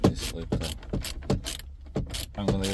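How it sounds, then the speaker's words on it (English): A small socket ratchet clicks rapidly in repeated bursts while backing out screws inside a Ford Focus MK4 Vignale interior, close and fairly loud, with brief pauses between strokes. "this little ratchet, socket ratchet, to take these out."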